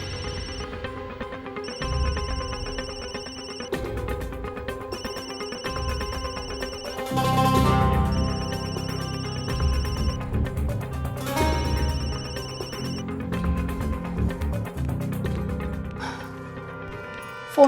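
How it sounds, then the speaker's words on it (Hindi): A telephone ringtone repeats in regular electronic bursts for the full length, steady and clear over a low dramatic music bed, with no one talking. "काट दीजिए फोन।"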